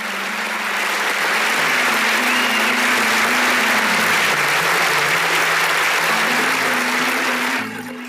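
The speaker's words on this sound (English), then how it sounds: "Audience, please give a big round of applause for them." An audience at a school annual day celebration gives a big round of applause for scholarship award recipients, loud sustained clapping from many hands with a low hum beneath, fading near the end.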